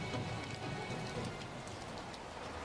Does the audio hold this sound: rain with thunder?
yes